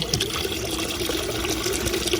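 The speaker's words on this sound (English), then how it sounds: "This actually has some water flow." Water from a solar water pump under test rushes in a steady, fairly loud splashing flow, unbroken from start to end with no voices.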